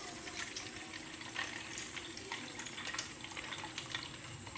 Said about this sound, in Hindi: ठंडा पानी डालेंगे हम 2 गिलास